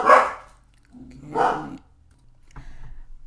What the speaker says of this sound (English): my dogs went crazy because I forgot it was Tuesday and the milkman comes